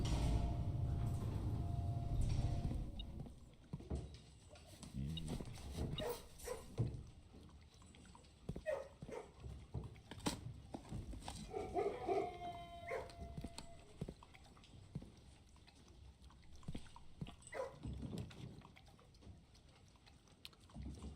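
Dogs barking in the kennel room of the video game Blue Prince: scattered short, sharp barks and yelps come in bursts over a low rumbling room tone, with some splashing, pouring-like noises mixed in.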